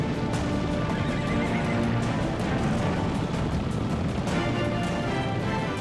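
A wild mustang neighs and whinnies loudly over the clip-clop of hooves, a full, close, continuous horse sound with repeated calls and steady hoofbeats.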